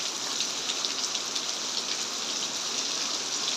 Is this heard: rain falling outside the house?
yes